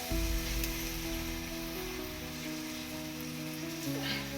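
Jaggery goes into a pan of frying kul (jujube) pickle, where a faint, steady sizzle and light crackle continue throughout with no voices.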